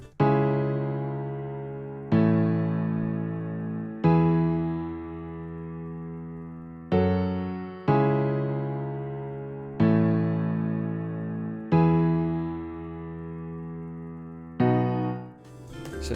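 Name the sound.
chord progression in Logic Pro X with added lower octave notes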